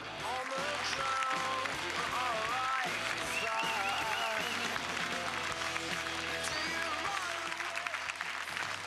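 An audience applauds guests seated in the front row, a steady, continuous wash of clapping from a crowd with music playing underneath, even and sustained throughout.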